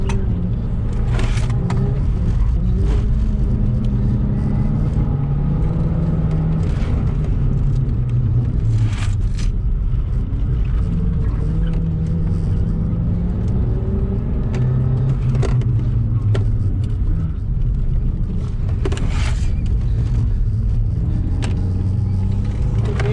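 A car engine pulls steadily in third gear while driving, a loud continuous rumble with slowly rising and falling revs and occasional rattles, close and without voices.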